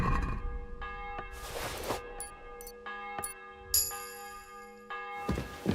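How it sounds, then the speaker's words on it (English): In the video game Kingdom Come Deliverance 2, a church bell tolls the eleventh of its strokes before an execution, a resonant ringing tone that sustains and decays, overlaid by several brief clanks and rustling noises. "The 11th toll of the bell."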